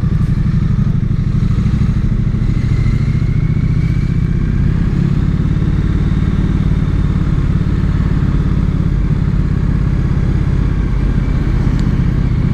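A low Triumph Street Twin motorcycle filters between lanes in traffic jams, its engine a loud, steady close rumble with passing traffic noise around it and no speech.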